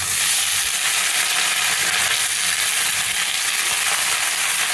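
Malabar spinach leaves tossed into a pan of frying onion and garlic give off a loud, steady, close sizzle with a faint rustle of stirring underneath.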